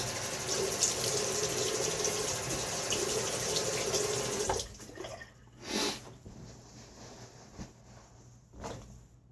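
Steady rush of water from a tap for about four and a half seconds, then it stops, leaving a few splashes and quiet handling sounds.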